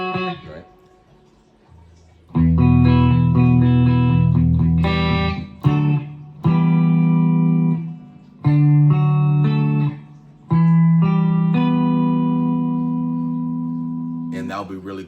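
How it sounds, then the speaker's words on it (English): Distorted electric guitar notes and chords ring out in several loud, sustained bursts, with gaps between them and some decaying into silence. "if you're playing that like distortion, it won't sound super clear"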